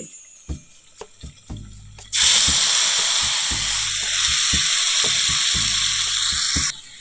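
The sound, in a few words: spice paste sizzling as it is added to the pan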